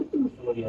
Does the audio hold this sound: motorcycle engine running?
no